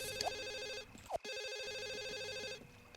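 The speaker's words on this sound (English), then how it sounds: "Oh, the phone's ringing." A telephone rings in The Sims 1, an electronic trill that repeats steadily through the clip against a layer of game music, with no talking.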